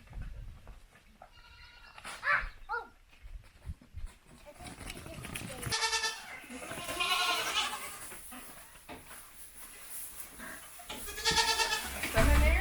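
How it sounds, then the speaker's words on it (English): Several goats bleat in wavering, nasal calls, some close and loud, others farther off, with farmyard rustling between them. "and then we're going to go head over to the goats."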